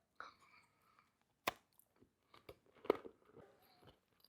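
Crispy lentil crackers topped with edamame avocado spread being bitten and chewed, faint close crunches and a couple of sharper bites scattered through a quiet moment with no talking.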